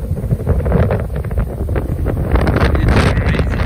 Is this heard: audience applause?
no